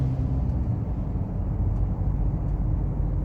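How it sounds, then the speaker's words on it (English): A VW Amarok's front tyres give a steady, low rumbling roar on the road, constant and close from inside the cab, with no talking. "I can just hear the tyres in the front"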